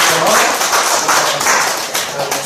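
A church congregation at a Friday prayer meeting claps together in a dense, steady burst of applause, close and fairly loud.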